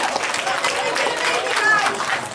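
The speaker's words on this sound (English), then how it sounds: "How about a round of applause for our great guys?" Church congregation applauding at a revival service, a steady dense clapping wash filling the short stretch at even loudness with no clear pauses.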